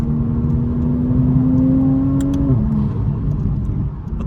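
A Toyota Supra MK5 engine pulls hard under acceleration, a steady rising whine climbing in pitch before a shift near the end, with a continuous low rumble beneath; heard from inside the car, loud and without talk.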